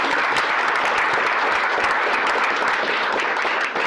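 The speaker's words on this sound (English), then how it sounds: "Please give a round of applause." Loud, sustained applause from a luncheon audience welcoming Senate Majority Leader Devin LeMahieu, a steady wash of many hands clapping close by with no voices over it.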